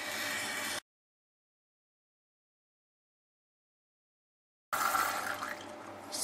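Water is poured in two short bursts, 30 grams of it, to make a sodium hydroxide solution for producing hydrogen with aluminium; a near, splashy trickle, then a silent gap, then more pouring.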